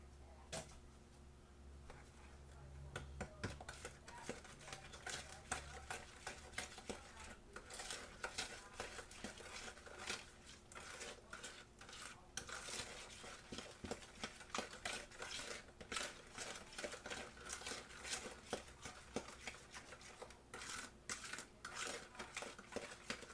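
An egg being mixed into cake batter by hand: a steady run of quick clinks and scrapes from a utensil against the bowl, fairly faint and continuous, with no talking.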